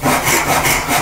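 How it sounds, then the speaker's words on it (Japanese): A hand saw cuts through wood while a wooden spoon blank is being shaped, with loud, close, rhythmic rasping strokes repeating back and forth about three or four times in a second, with no voices. "ノコギリが入ってますね。"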